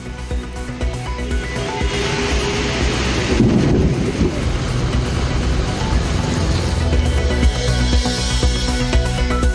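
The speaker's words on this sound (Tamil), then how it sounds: "திருவள்ளூர் மாவட்டத்தின் பல்வேறு இடங்களில் கனமழை." Heavy monsoon rain pours steadily over the Tiruvallur district while thunder rumbles loudly through the middle, a dense continuous downpour with no voices.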